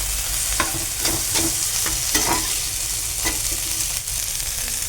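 Nuts and poppy seeds frying in a pan, a steady soft sizzle broken by repeated scraping stirs of a spatula, heard up close with no voices.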